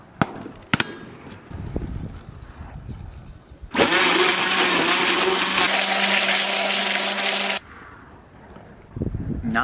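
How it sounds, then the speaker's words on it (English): A Coolest Cooler's built-in blender runs at a steady, loud whine for about four seconds, starting and stopping abruptly, with quieter handling noise before and after and no talk over it. "just like any other run-of-the-mill blender, it's gonna have a hard time chopping up ice very finely"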